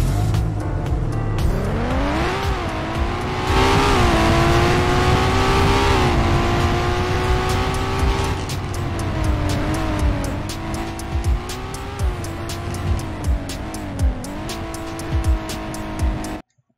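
The Car Crushers 2 video game engine revs hard and steadily, its pitch climbing and dipping through repeated gear-like sweeps over a sustained loud drone, ending abruptly with no talk.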